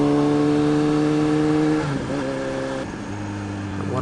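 A 2020 Kawasaki Z H2 supercharged streetfighter motorcycle being ridden, heard as a loud, close engine holding a steady tone, then shifting pitch through gear changes as it eases off and pulls again.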